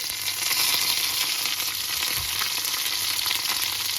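Dried red chilies and curry leaves fry in hot oil for a coconut chutney tempering, giving a steady, close, bright sizzle and crackle with faint stirring.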